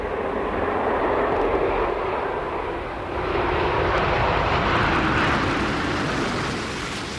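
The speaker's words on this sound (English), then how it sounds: "Columbia over the runway, geared down and locked." Space Shuttle Columbia roars over the runway on its STS-109 landing at Kennedy, a broad, steady rushing drone heard at a distance that holds loud and continuous with a slight dip partway.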